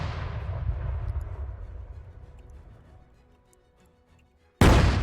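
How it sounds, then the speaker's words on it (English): An anti-tank gun fires in a Battle of Raate Road war game: a heavy boom decays over several seconds into a long fading rumble, then a second loud, sharp blast cuts in abruptly at the end. "anti-tank gun firing."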